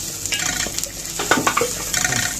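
Coriander is stirred into a frying pan, with a spoon scraping and clinking against the pan over a low sizzle in brief irregular strokes.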